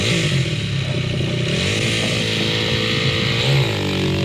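A motorcycle engine roars loudly and steadily nearby at a race start, its pitch rising and falling as the throttle is worked.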